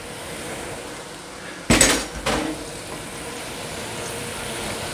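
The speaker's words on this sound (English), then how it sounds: "So I'm now adding the potatoes." Pre-cut potatoes tipped into a pan of honey and spices, a short clattering tumble and a second smaller thud against the pan, then quiet kitchen background.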